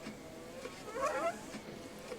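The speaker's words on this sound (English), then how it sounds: "I can hear a pump and the headlight wiper." A Volvo headlight wiper and washer pump running with a faint electric whir and a brief wavering mechanical tone in the middle, quiet and steady without any talk.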